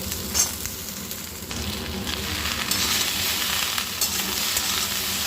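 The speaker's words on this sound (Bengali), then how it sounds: "এবার এগুলো সব শুদ্ধ একসাথে ভেজে নেব" Cauliflower, potatoes and green beans fry together in a wok with a continuous close sizzle and crackle, a few louder spits and stirring scrapes breaking through.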